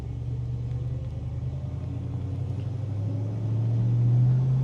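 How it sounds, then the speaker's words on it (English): Engine of a 1969 Dodge Dart GTS on bias ply tires, heard while driving: a steady, deep rumble that swells slightly near the end as the engine pulls, close and continuous, with no talking. "Good rumble out of this thing."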